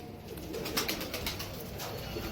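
Soft pigeon cooing and murmuring, close by and steady, with a faint shuffling background and no talking.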